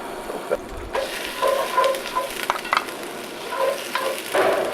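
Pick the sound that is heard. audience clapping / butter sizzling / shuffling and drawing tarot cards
butter sizzling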